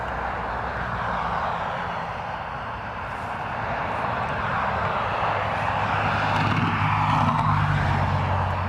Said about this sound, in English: Aer Lingus XLR from Amsterdam.